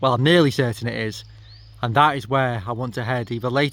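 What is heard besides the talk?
No everyday noises stand out.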